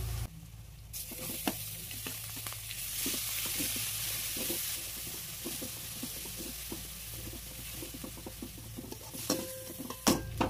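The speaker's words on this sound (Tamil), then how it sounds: "வெங்காயம் நல்லா பச்சை வாசம் போகிற அளவுக்கு நல்லா வதக்கலாம்." Crushed small onions (shallots) sauté in a pan for a village-style goat brain pepper fry, a close, even sizzle with rapid stirring taps and scrapes throughout and a few louder clinks near the end.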